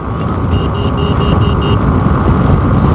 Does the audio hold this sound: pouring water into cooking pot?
no